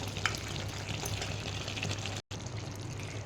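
Meat sautéed and stirred in a pan for kosha, a close, even sizzle with soft wet stirring and scraping, broken by a brief silent cut before resuming.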